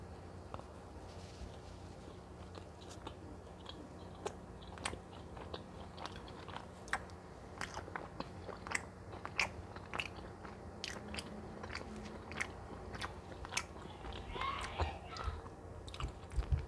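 Someone bites and chews a Dunkin' chocolate donut up close. There are soft, irregular crunches and moist chewing sounds, and a few sharper bites stand out over quiet background noise, with no speech.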